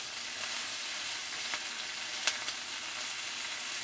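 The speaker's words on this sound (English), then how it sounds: "Stir fry those around a bit." Shallots stir-frying in coconut oil in a pan give a steady, close sizzling hiss with a few faint crackles and scrapes of stirring, and no talk.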